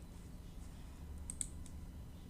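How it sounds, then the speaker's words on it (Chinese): Computer mouse clicks while working in Photoshop: a few sharp, quiet clicks spaced apart over a low room hum. "我点取消吧。"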